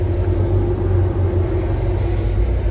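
A convoy of Ferrari cars, including an F12, rolls past a casino with a steady, deep engine rumble and a low hum running evenly throughout.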